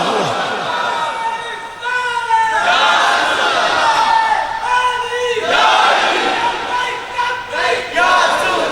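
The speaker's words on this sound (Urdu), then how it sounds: "اے نعرہ جوان نے جڑے جوش محبت نال لایا ہے" A crowd at a religious gathering shouts a slogan in unison in repeated loud bursts, each answered by a massed roar of many voices, close and energetic, with a lead voice calling out between the chants.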